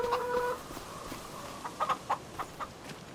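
Chickens in Farming Simulator 25 cluck in a short series of sharp, repeated calls, with a more sustained tonal call at the start and a soft ambient bed underneath.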